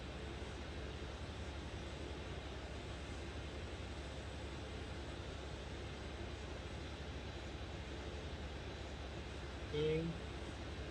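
Inside the cabin of an Indonesian presidential aircraft used by the vice president, flying from Tanjung Pinang, a steady broadband engine and air roar holds for the whole stretch. A brief faint sound breaks through near the end.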